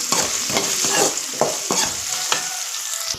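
A tempering of asafoetida, dried red chillies and curry leaves is stirred in hot oil, with loud close sizzling and quick, rhythmic spoon scrapes against the pan, and no voices.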